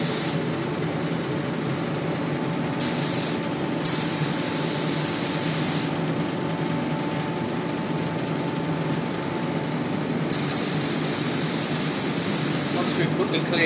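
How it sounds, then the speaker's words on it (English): A spray gun lays clear coat over a black-and-blue swirled guitar neck and headstock in a loud, continuous hiss, with a few brief dips where the trigger eases off. "We're now getting ready to put a couple of coats of clear coat."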